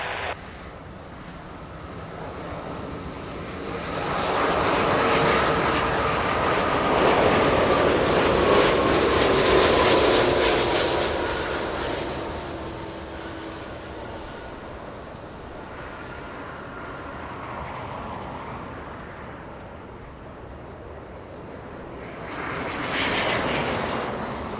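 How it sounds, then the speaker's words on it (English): A heavy Delta Airbus A330 on short final into LAX runway 24 right, its jet engine roar swelling as it passes overhead and fading, with wind noise and a later rise from another aircraft. "Delta 368 LA Tower flying a heavy A330 short final."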